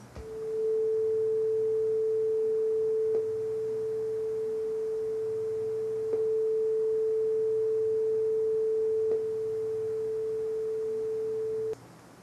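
A steady sine test tone plays from PandaBoard speakers, holding one unbroken pitch for about eleven seconds with faint clicks every few seconds and a low hum beneath, then stops.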